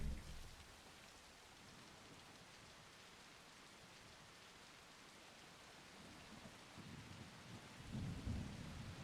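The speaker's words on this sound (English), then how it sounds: "it's raining in my game" Steady rain pours with rolling thunder in the Darksiders 2 video game, a constant wash of rainfall with low rumbles swelling near the end.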